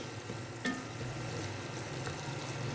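Steady sizzling and crackling of beef frying in a hot pan with onions and whole garam masala spices, with a single clink of a utensil against the pot partway through.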